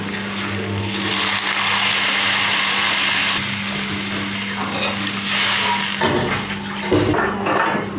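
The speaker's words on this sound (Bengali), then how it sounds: "এবার জল দিয়ে দেবো" Water pours into a pot of dal and jackfruit, a dense rushing splash that runs for several seconds before fading, with a low hum underneath and no talk.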